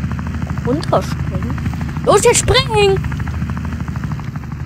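A video-game helicopter in Wobbly Life runs with a steady rotor drone throughout, while excited voices talk loudly over it.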